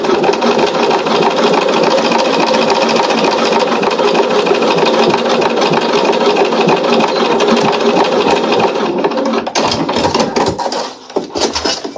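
A sewing machine runs steadily as it topstitches a zipper pouch, a continuous close mechanical whir that breaks into a few short bursts near the end.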